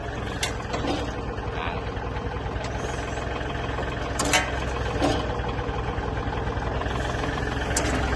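An L3608 tractor engine idles smoothly and steadily, a close, constant low mechanical drone with no revving for the whole stretch.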